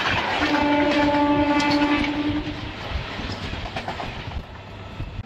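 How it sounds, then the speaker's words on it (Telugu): The Lingampalli–Kakinada Town superfast express passes loud and close, its horn sounding a long steady blast before wheels clatter rhythmically over the rails. "Lingampalli Kakinada town Kakinada super fast express అండి"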